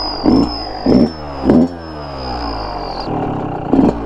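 A Yamaha YZ125 two-stroke dirt bike fitted with a turbo exhaust whistle revs in four sharp bursts against a steady high-pitched whistle that holds for about three seconds, then stops.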